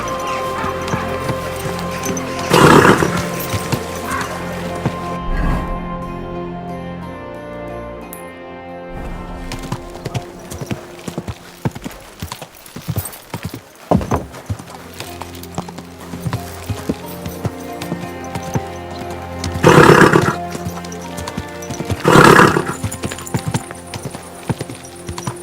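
Horse in the medieval video game Kingdom Come: Deliverance II, with steady clip-clop hoofbeats under light ambience, several louder whinnying bursts near and far, and background game sounds.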